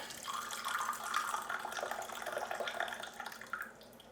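Tea being poured in a steady stream into a cup, a close, bright trickle whose pitch shifts as it fills, ending with a final splash.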